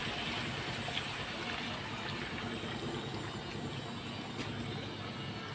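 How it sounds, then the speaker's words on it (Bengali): Hot boiled water pours steadily into goat meat cooking in a pot, a continuous even gush with no talk. "এই যে গরম জল ফুটে গেছে, জল তো দিয়ে দিলাম।"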